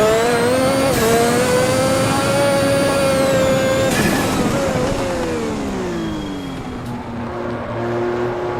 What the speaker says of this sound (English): So you hear that turbo being all sorts of RPM.